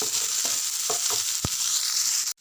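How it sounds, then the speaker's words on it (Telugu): Onions frying in oil with green chilies and curry leaves for chicken curry, a close, continuous hiss of sizzling with a few brief stirring scrapes and one sharp clink, cutting off at the end. "ఒక మూడు నాలుగు పచ్చిమిరపకాయలు కరివేపాకు ఉల్లిపాయ కర్రగా అయ్యేదాకా ఫ్రై చేయాలి"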